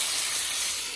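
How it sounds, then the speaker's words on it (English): Chicken and broccoli steaming in a covered pan with a few tablespoons of water, a loud close steady hiss of steam and sizzle with no speech. "Just so the broccoli can steam with the chicken."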